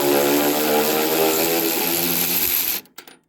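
A power ratchet undoing a bolt gives a loud, steady mechanical whir close up, then cuts out abruptly with a couple of faint clicks after.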